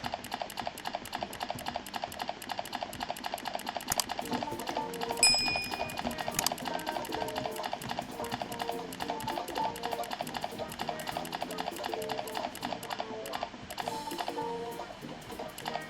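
Rapid, steady mouse clicking runs throughout, a dense stream of small mechanical taps with faint background music underneath.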